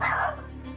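A single short, close bark from a pet dog indoors, loud and sharp, then trailing off quickly.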